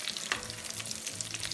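Chicken nuggets deep-frying in hot, well-heated oil give a dense, continuous bubbling sizzle with small crackles, heard close and steady with no voices.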